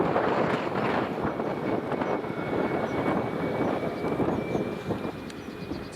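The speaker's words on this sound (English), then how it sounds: "It's a WestJet taxiing." A WestJet airliner taxies at Edinburgh Airport near runway 24, its jet engines giving a steady, broad rumble and hiss with a faint whine, sustained and moderately distant, easing slightly at the end.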